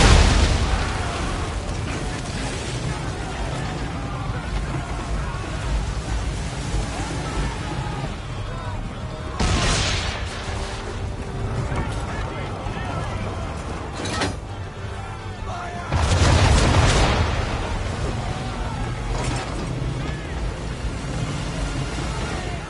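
Naval swivel gun cannon fire and explosions in Assassin's Creed III Remastered, a ship battle at sea against an English frigate, with two heavy booming bursts standing out over continuous loud battle noise and a voice speaking.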